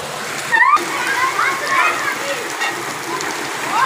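Heavy rain pours down in Raiwind city near the Eidgah mosque, with a steady hiss and water splashing across the ground while people talk over it.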